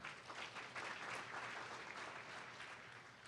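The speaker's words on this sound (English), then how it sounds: "Let's give a round of applause for that beautiful rendition of our national anthem." An audience applauds, a dense steady wash of clapping from many hands that continues throughout, heard from a little distance.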